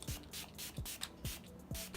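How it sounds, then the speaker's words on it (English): Catrice Prime and Fine setting spray misted onto a face in several short, airy bursts spaced roughly evenly, each a soft hiss, close and fairly quiet with no talking. "I'm gonna spray my face again before adding my highlight."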